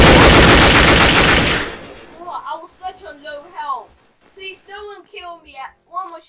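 Loud, rapid automatic gunfire from a superhero tycoon video game fills the opening stretch as a close, dense burst, then stops and a player talks over the quieter game.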